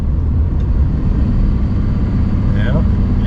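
A Dodge Ram truck engine drones steadily at close range while the driver downshifts, a loud, even low rumble with a brief rising whine near the end.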